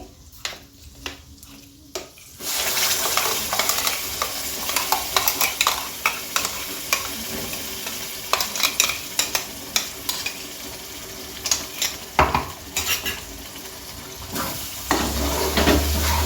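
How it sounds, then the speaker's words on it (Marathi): Ground spice paste for a kingfish (ravas) curry drops into hot oil with curry leaves and bursts into a loud, continuous sizzle. Repeated stirring clicks and scrapes of a spoon against the pan run over it. "हे वाटण वाटलेलं होतं ना ते टाकते"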